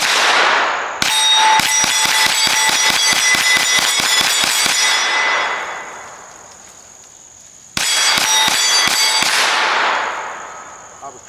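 Smith & Wesson FPC 9mm carbine firing at a steel target: a rapid string of sharp shots each followed by a ringing metallic clang, the ring decaying after the volley, then a second quick burst of shots and clangs.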